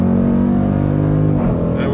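Dodge Durango SRT with a 475 HP engine revving hard at launch, a loud, close, continuous roar with rising harmonics that shifts pitch near the end.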